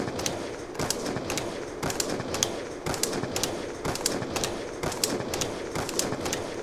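DSR-50 sniper rifle in a video game firing over and over with reload clicks between shots, a steady rhythm of sharp close cracks about every half second across a busy background.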